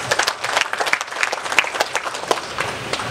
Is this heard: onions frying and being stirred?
no